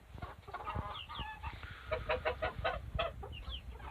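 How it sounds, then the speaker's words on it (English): Several chickens cluck and murmur close by in a continuous, overlapping chatter, with a few sharper squawks near the end. "he's quite content with all the chickens in here"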